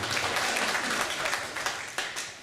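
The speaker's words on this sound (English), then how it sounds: "Let's give him a big round of applause." An audience applauds a sheriff called forward at an event, with dense, sustained clapping from a crowd that tapers slightly toward the end.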